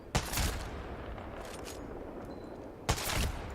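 Two loud no-scope sniper rifle shots in Apex Legends, each a sharp blast with a short rumbling tail, the first near the start and the second about three seconds later, set against quiet game ambience.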